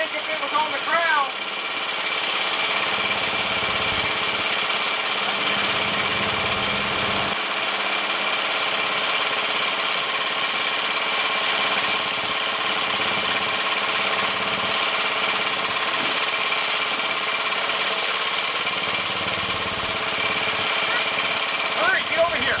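Rebuilt racer kart engine running steadily on its first test start, a continuous buzzing drone close by with slight changes in load, and people talking over it.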